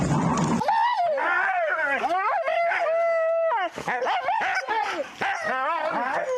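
Several huskies howl and yelp together in a loud, continuous chorus, wavering up and down in pitch with sharp barks breaking in.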